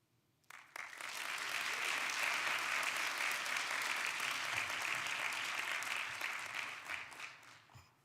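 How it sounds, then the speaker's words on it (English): An audience at a Do Good Challenge finals event breaks into a round of applause, starting abruptly, holding a loud, even wall of clapping for several seconds, then tapering off near the end. "Let's give her another round of applause, everyone."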